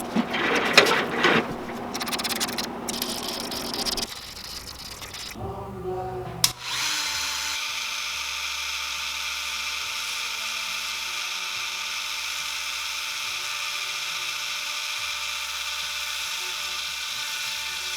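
A power tool sands a wooden jerkbait lure. Scattered handling and scraping noises come first, then after a short pause a steady, close, high whirring grind runs without a break to the end.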